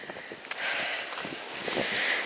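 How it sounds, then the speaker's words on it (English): Strong gusty wind roars steadily across the microphone outdoors on an autumn walk through Dolebury Warren, a broad continuous rush with swelling gusts and no talk. "it's actually very blowy"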